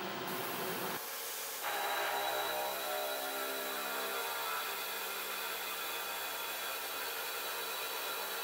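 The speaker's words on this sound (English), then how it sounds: "I'm just using air to blow any chips off." Compressed air hissing steadily from a blow gun, clearing metal chips off a freshly machined 9-inch straight edge in a machine shop, a close, continuous rush with a brief shift near the start.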